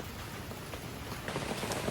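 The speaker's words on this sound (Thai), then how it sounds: "ก็ฝนก็ กลับมาตกอีกครั้งหนึ่ง" Steady rain falls outside a rural house in Thailand as an even, close hiss with scattered drop patters, no voices.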